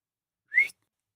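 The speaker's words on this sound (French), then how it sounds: "Sifflèrent-ils en entendant sa voix." A single bright rising whistle from a group of dwarves, a short sound effect in an audiobook, heard alone and close with nothing around it.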